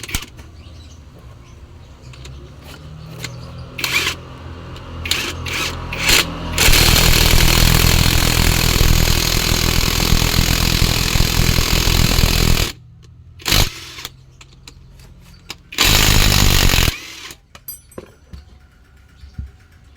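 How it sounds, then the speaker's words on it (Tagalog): Pneumatic impact wrench hammering on a seized brake caliper piston, bursts of loud rattling broadband noise lasting several seconds, with short gaps and brief quieter hits in between, up close in a workshop. "Gagamit tayo ng impact wrench"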